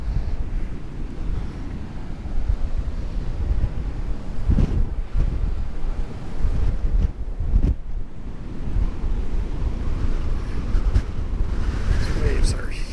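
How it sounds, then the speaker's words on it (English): Huge ocean waves over 20 feet crash against a shaking pier at Ocean City, Maryland, during flooding, heard as a loud continuous roar of surf buffeted by heavy wind noise, with a couple of stronger surges. "These waves are huge."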